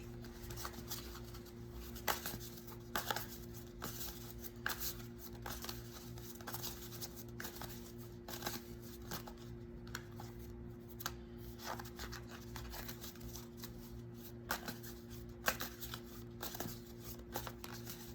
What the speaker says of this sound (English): let me just shuffle up the cards real quick.